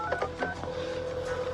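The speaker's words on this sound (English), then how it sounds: "could you just get this Danley guy on the phone for me" Telephone keypad tones sound in a short burst of several beeps, followed by a steady held tone.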